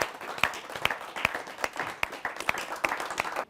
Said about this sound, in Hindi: आइए तालियों के साथ स्वागत करते हैं